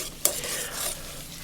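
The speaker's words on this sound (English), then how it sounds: "you're only supposed to stir the meat in one direction" Minced pork mixture for a Cantonese steamed pork patty is stirred in one direction, giving a soft, wet, sticky churning sound with one brief clack near the start, close and fairly quiet, with no talk.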